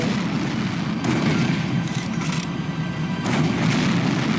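Rumbling cannon fire and impacts from an Arjun tank striking an enemy's shield in a tank video game, a dense continuous boom with a few sharper blasts layered through it, loud and close.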